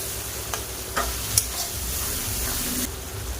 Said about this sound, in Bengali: পেঁয়াজ দেব, চিংড়ি মাছ দেব, এরকম করে